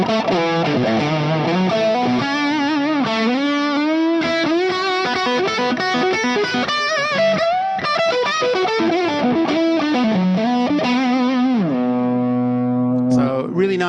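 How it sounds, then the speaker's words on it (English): An electric guitar played through a Mesa/Boogie Lone Star amp with G-Force effects and a little echo gives a fat, singing lead line of sustained notes and bends. It plays loud and continuous, then ends on a held chord. "This is just purely the Lone Star tone with the G-force effects with a little echo."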